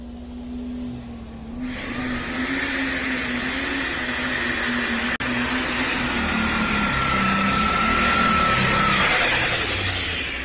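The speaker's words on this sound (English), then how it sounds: "You saw that tractor go right away." A loud, steady pulling tractor engine roars and revs continuously during a tractor pull pass, its drone rising and swelling toward the end, with a brief sharp click midway.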